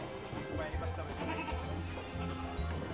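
Goats bleat several times close by, short wavering cries while people talk in the background.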